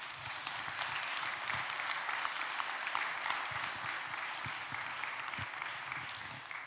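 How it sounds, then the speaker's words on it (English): Steady applause from a conference audience at Avram Iancu Cluj International Airport, honouring the event team; dense, continuous clapping at moderate level throughout, slightly distant, with no talk over it. "Congratulations and big applause for the whole team."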